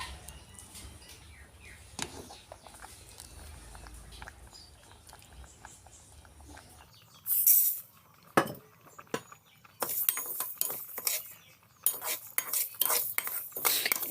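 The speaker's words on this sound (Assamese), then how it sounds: "মই মগু দালি ল'লোঁ আৰু এতিয়া এইখিনি মই ভাজিম" Moong dal dry-roasting in a wok, with scraping stirs, metal clinks and light patter of lentils against the pan, quiet at first and then louder bursts of clatter toward the end.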